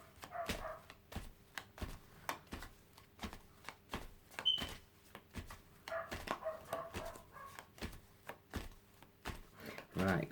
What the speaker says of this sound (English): you'll have to excuse these bloody dogs in the background barking